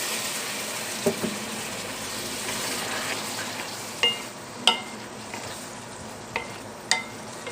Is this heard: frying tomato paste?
yes